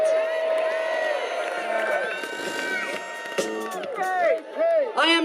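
A crowd cheering at a Prop 8 rally in San Francisco, loud continuous whoops and shouts from many voices, with a few sharp bursts near the end.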